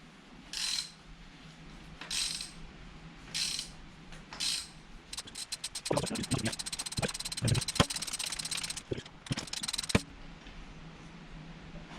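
A ratchet with a 16mm socket works a spark plug loose on a 2004 Toyota Celica, first in a few slow separate pulls, then in fast rapid clicking bursts, close up, with a few brief metallic knocks.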